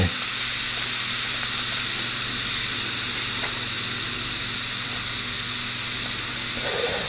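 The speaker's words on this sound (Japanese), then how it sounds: "あれ、なんでこの水音聞こえるんだろうな。" Inside an unlined, hand-dug rock tunnel, a constant broadband rush of water hisses steadily and loudly, with no break across the whole stretch.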